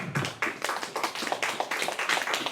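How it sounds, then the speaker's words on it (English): Applause from a church live-stream congregation, a steady patter of claps from a modest group indoors, fairly close and moderately loud, with no talking over it. "Give her a round of applause."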